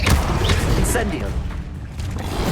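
Incendio fire spell cast in the video game Hogwarts Legacy, a loud fiery burst with booming thumps and crackle at the start, fading into rumbling battle noise before another hit at the end.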